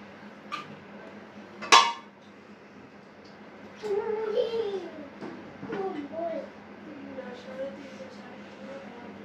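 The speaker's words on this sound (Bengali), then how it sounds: "দিয়ে দিয়ে দেখুন আমি নাড়াচাড়া দিতেছি" A spoon scraping and clinking in a pan as ginger-garlic paste, salt, chilli and turmeric masala are stirred and fried for a meat curry, with one sharp clink early on, then soft scraping under a speaking voice.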